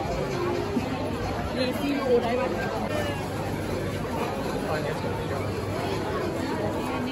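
Busy tourist crowd at Asakusa Temple in Tokyo murmurs in a constant hubbub of overlapping voices. A few nearer voices stand out now and then, but no single conversation dominates.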